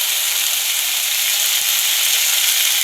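Ground cumin, turmeric and Kashmiri chilli powder fry in hot oil while being stirred, giving a loud, constant hiss and sizzle close up with a single faint scrape, and no voices.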